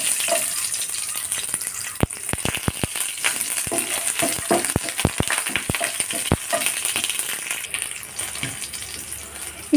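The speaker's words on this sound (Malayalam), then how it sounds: "ഇനി ഇതിലേക്ക് ഞാൻ ചെറിയ ഉള്ളിയാണ് ഇട്ട് കൊടുക്കുന്നത്." Small onions frying in coconut oil make a loud, constant sizzle close by, broken by many sharp crackling pops scattered throughout, with no talking.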